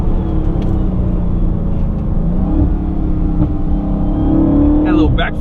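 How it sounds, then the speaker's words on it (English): A lowered 2020 Dodge Charger Hellcat Widebody accelerates with a loud, close engine drone, and a short burst of sharp backfire pops comes near the end. "Had a little backfire there."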